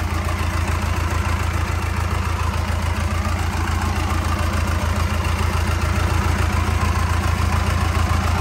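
A non-turbo 4102 diesel engine of about 105 hp runs smoothly and loudly nearby, its low, even chugging rhythm steady throughout with no voices.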